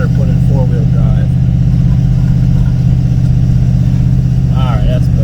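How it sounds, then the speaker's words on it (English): An old Ford vehicle engaged in four-wheel drive on a rural farm, its engine droning loud and steady at mid pitch while people talk excitedly over it. "The old Ford's working."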